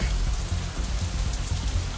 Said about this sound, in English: it's still raining outside when we exit the Shanghai